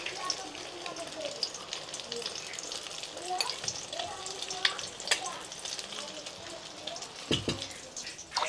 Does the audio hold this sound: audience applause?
no